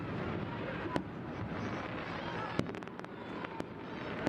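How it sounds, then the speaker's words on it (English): Fireworks burst in the neighbourhood around Washington, DC, sharp cracks and pops scattered irregularly over a steady background rumble, some close and loud, others fainter. "There are fireworks in the area."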